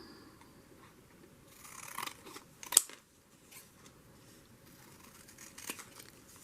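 Scissors trimming paper for a journal: quiet snipping and rustling up close, with a sharper cut near the middle and faint paper handling before and after.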